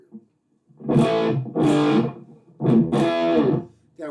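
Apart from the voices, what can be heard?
guitar through distortion pedal with drive turned up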